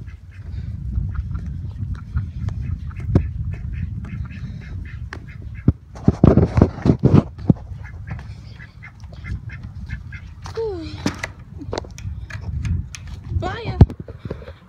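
Newly hatching ducklings give faint, high little chirps in short scattered bursts, mixed with duck-like calls and a few rising peeps, over steady low background rumble while a person talks nearby.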